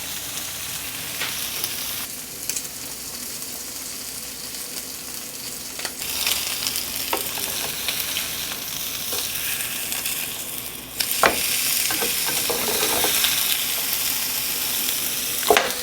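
New York strip steak sizzles and fries in butter in a hot pan, a steady broadband crackle with occasional stirring and louder spitting bursts toward the end, close and continuous with no talk.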